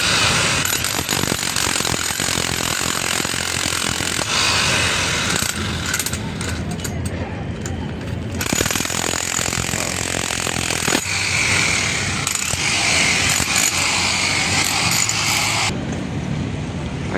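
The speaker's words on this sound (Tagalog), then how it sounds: "gumagamit po sila ng martilyo na goma. Pinagpupukpok na yung pallet" Rubber mallet pounding a pallet at a busy outdoor site near the Maestranza entrance, giving repeated dull knocks over constant mechanical clatter and background noise.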